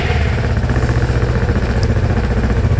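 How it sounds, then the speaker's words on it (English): A 2014 Piaggio Beverley 350 ABS touring scooter engine idles steadily and close by, a loud, even mechanical thrum with a light clattering pulse and no talking. "I've got to pull a brake while I start it."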